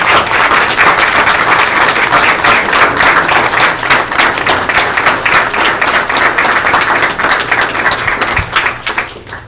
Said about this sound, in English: give them one more applause, standing applause to the department and to all of the districts for this accomplishment